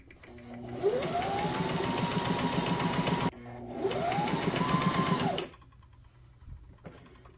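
A Brother SM2700 sewing machine runs in two steady stitching bursts of about two and a half seconds each, a rapid mechanical whir with a rising hum, followed by quieter handling clicks near the end.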